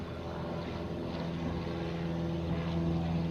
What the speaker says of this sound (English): this is that ANA Dreamliner with the Star Alliance livery